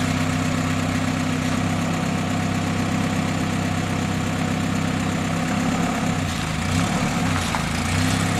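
A 1946 Willys CJ2A Jeep engine runs steadily at a low idle, a loud continuous mechanical drone with a slight shift in tone near the end and no voices.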